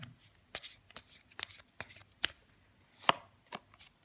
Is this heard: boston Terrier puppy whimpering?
no